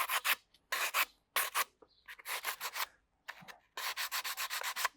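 Rubber sanding block worked over a wooden two-piece bow in quick bursts of rough rubbing strokes, close and fairly loud, separated by short pauses, with no talking.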